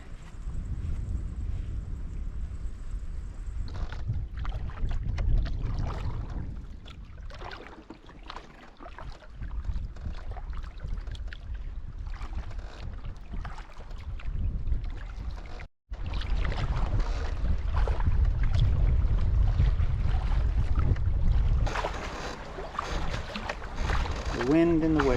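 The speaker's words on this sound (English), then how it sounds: "The wind and the waves." Steady wind roars and buffets with lake water lapping and sloshing against a canoe, loud and continuous, with a brief dropout midway.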